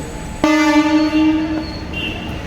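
A train horn blasts loudly for about a second at Bandikui Junction, a single sustained tone close by, followed by rumbling rail noise.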